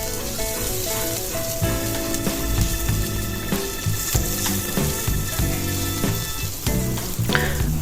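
Sliced onions sizzle steadily in a pan over low heat while being stirred for a home chicken curry, a continuous close crackle with occasional scraping.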